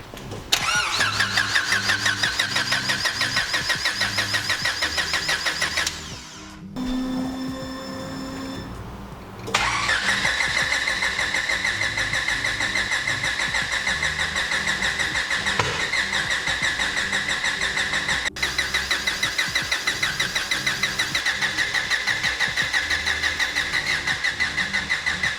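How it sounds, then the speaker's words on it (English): An EF9 Honda Civic Kanjo-style build starts up for the first time, its engine catching and settling into a loud, steady idle that runs close-up and alone, broken briefly by a short dip a few seconds in. "And now we can finally start the car for the first time."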